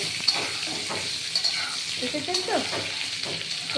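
Pointed gourd (potol) pieces frying in a pan with a steady sizzle and scraping stir noises, while someone speaks briefly over the cooking.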